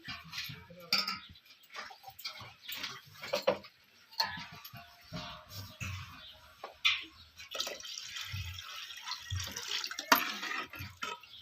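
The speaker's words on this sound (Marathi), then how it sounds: "अजून पाणी ओतते" More water is poured into dal cooking water for amti. Intermittent trickling and splashing mix with light clinks of utensils, growing into a steadier pour toward the end.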